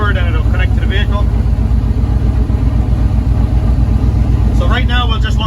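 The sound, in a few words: car engine idling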